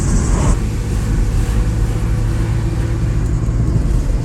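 A car that keeps threatening to stall, with its engine cutting out when the air conditioning is on, drones steadily while being driven on Paxos. The low engine rumble and road noise stay loud and continuous throughout.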